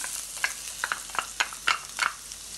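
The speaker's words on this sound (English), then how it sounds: "All right so I'm going to add my garlic first" Garlic added to a hot pan for a Jamaican salt mackerel rundown, a quiet steady sizzle punctuated by several sharp crackles and spatula scrapes at irregular intervals.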